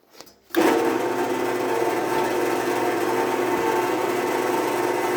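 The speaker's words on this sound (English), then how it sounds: "now it's time to start drilling" A power drill whirs steadily after a brief quiet start, drilling holes in a homemade knife sheath, a loud continuous motor drone with a mid-pitched hum running to the end.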